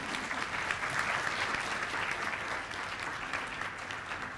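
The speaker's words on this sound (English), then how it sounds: "Ladies and gentlemen, let's give him a thunderous round of applause." A dinner audience at an academic keynote event gives a round of applause, many hands clapping in a continuous, moderately loud wash that holds steady throughout without speech.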